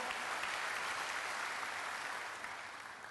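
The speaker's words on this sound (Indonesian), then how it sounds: "tepuk tangan bagi Allah kita" A church congregation breaks into sustained applause during a sermon, a dense, steady wash of many hands clapping at once, even in loudness and slowly tapering toward the end.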